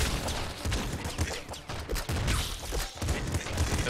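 Rapid video-game gunfire in Nuclear Throne, a dense, continuous stream of small shots and impacts layered with game music and effects, with no pause across the stretch.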